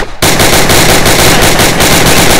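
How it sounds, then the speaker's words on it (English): Rapid, steady automatic gunfire from a CW5 Tommy gun in a video game, a loud continuous burst of closely spaced shots lasting a couple of seconds with no speech over it. "Got the CW5 Tommy. Nice little fire rate."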